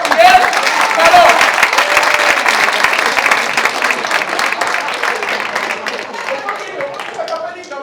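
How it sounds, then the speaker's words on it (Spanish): Loud, enthusiastic applause from an audience at a children's show, a dense burst of clapping that starts strong and slowly tapers off, with cheering voices mixed in. "¡Fuerte aplauso, Miguel! ¡Bravo!"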